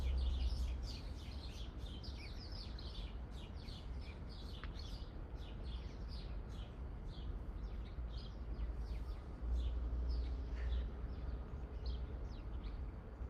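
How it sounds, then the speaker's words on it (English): Outdoors, several birds chirp and tweet in quick, scattered bursts, fairly faint against a low, steady background rumble. "Enjoy the vibrations that the birds are bringing us."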